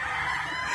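Several chickens, just released, crow and call at once, a dense, continuous layer of fowl noise close by with no pauses.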